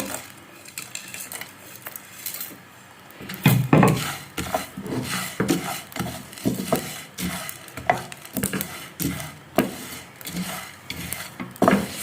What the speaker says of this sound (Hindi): इन सारी अशिया को हम फ्राई कर लेते हैं